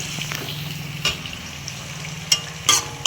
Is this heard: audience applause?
no